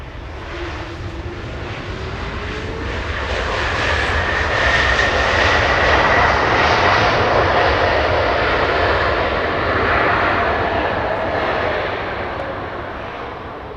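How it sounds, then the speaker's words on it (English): A Delta Airlines jet arrives at Los Angeles International Airport from Portland, Oregon. Its heavy engine rumble rises to a loud, sustained roar close by and eases slightly toward the end, with no talking. "Delta Airlines, this one flying in from Portland, Oregon"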